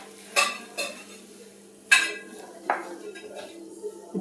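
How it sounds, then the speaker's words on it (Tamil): A metal spoon stirs rava kesari in a pan, a handful of sharp scraping clinks against the pan at irregular intervals over faint sizzling, close up with no talking. "நல்லா இந்த மாதிரி சொலட்டி நல்லா கிண்டிக்கிங்க."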